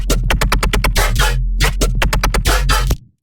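A dry synthesized bass patch made in Ableton plays a loud, choppy rhythmic pattern of short punchy stabs with a few longer held notes, stopping abruptly near the end; no voices.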